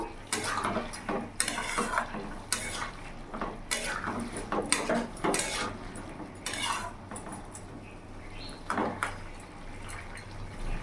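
Fried prawns go into boiled papaya in a cooking pot on a gas flame, with scattered faint clanks of a utensil against the pot and soft wet plops.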